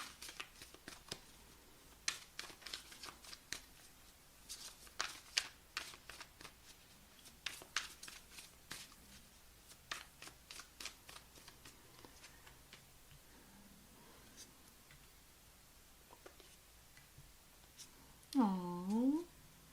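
Tarot cards are shuffled and handled in a quiet room, giving soft rapid riffles and taps spread across the stretch, with a few brief bursts of a voice near the end.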